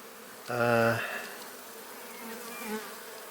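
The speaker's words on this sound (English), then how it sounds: "And quite a few bees running about." Honey bees crawl over a hive frame, giving a close, brief buzzing drone followed by a fainter, thinner hum against a quiet background.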